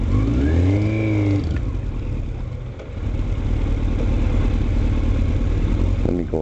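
Rush-hour traffic on School Street, with a nearby engine revving and rising in pitch as it accelerates, then settling into a steady droning rumble of passing vehicles.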